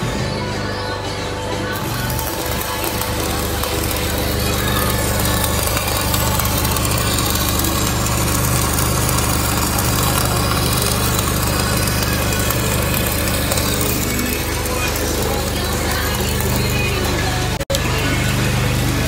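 A Miller Trailblazer 302 Air Pack engine-driven welder runs with a steady, loud, continuous engine drone and hum, holding even throughout with no talk.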